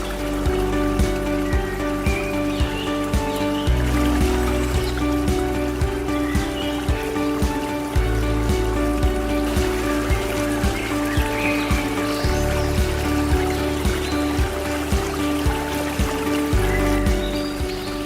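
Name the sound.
river flowing in Loknga forest, Pucuk Krung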